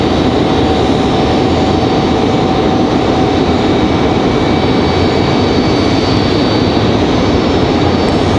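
An Embraer E175 airliner inbound from JFK approaches Raleigh-Durham airport at sunset, its engines a steady broadband roar that holds loud and constant, with no talk over it.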